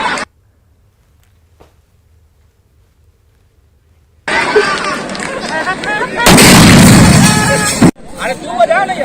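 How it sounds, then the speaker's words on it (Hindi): Firecrackers go off at a sports event opening, with loud sharp bursts and crackling after a quiet start, heard amid crowd noise and voices. "पटाखा चलाकर भागने की कोशिश की"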